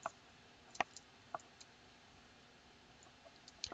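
A few isolated, faint clicks of keys pressed on a computer keyboard, spaced irregularly with quiet pauses between them and no talking.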